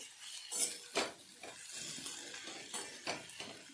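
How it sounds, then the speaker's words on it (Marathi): Metal utensil scrapes and clinks against a heavy wok while stirring brinjal, in irregular strokes, fairly close and moderately loud, with no talking. "भाजी मिक्स करून घ्यायची बघा"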